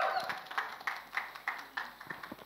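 Audience clapping at a song launch event, with steady, rhythmic hand claps repeating at an even pace, moderately loud with a slightly messier stretch near the end.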